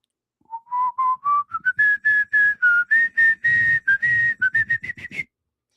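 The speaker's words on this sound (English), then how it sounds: "That's Whistling Dixie." A person whistles a clear, steady melody, note after note rising and falling in a lively tune, close and alone against silence.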